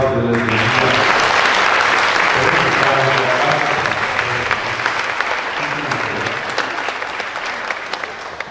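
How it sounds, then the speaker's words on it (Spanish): Church congregation applauding at a wedding in Corral Viejo, Mexico, loud sustained clapping filling the room from the start, with voices and faint music underneath, slowly easing toward the end. "denles un aplauso de la iglesia"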